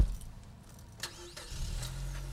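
A roadster convertible's engine cranks and catches after a door-shut thump, settling into a low steady idle close by, with no voices.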